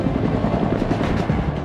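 An army AH-1 Cobra attack helicopter is flying nearby, its rotor and engine making a loud, continuous, close throbbing roar with no speech over it.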